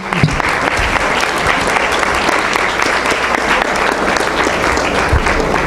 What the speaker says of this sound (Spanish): Un aplauso para Miguel Ángel Bastenier, por favor